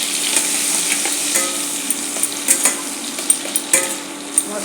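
Spice masala with turmeric and cumin powder cooks in oil in a pan, making a loud, continuous close sizzle broken by sharp scrapes and clinks of a spatula being stirred through it, with no voices.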